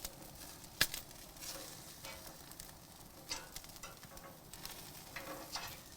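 Octopus sizzles quietly on a grill in a steady, faint crackle, with a sharp tick and a few soft knocks as it is turned over.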